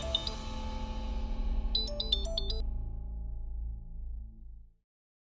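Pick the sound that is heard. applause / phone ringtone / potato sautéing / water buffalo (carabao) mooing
phone ringtone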